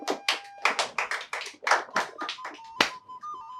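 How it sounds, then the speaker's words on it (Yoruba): An audience on a Yoruba television quiz show breaks into applause, a burst of close, uneven clapping that swells and dips in waves before tapering off. "ẹ bá ń pàtẹ́wọ́ fún wọn"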